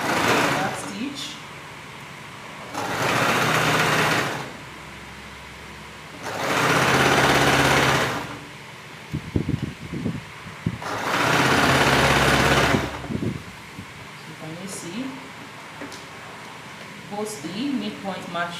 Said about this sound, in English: So I will take it to the sewing machine and start sewing.